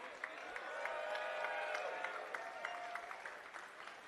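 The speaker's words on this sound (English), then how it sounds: "One more round of applause." An audience claps steadily for the champions at The North Face Climb Festival in Chicago, a sustained round of applause with a few scattered whoops, with a voice talking over it.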